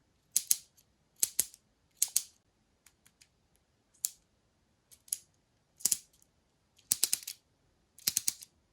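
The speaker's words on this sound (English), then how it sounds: "This cool little tool includes a ratchet function and a standard screwdriver function." A MetMo pocket driver's ratchet clicks in short quick bursts of several dry ticks each, close and crisp against silence, repeating at irregular intervals with a few faint isolated taps between.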